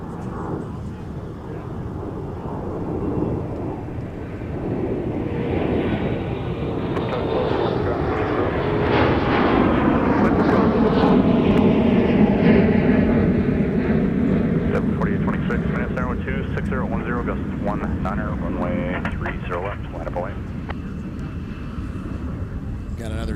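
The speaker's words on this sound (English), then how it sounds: "Got another CRJ departing on the south parallel there." A CRJ regional jet departs on the south parallel runway at Minneapolis–Saint Paul in winter, its engine noise swelling to a peak midway and then fading, with voices talking over it.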